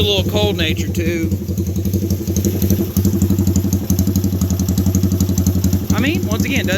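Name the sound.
Honda ATC 200X engine idling with Curtis Spark pipe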